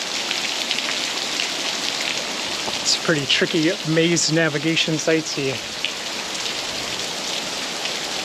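Steady rain falling at Gyeongbokgung Palace, a dense, even hiss of drops on surfaces that runs throughout while someone speaks briefly in the middle.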